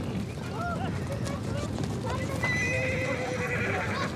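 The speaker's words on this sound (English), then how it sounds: "for breaking in the horses." Horses on open Mongolian grassland give repeated clip-clop hoofbeats and several clear whinnies and neighs, fairly close, with a voice talking over them.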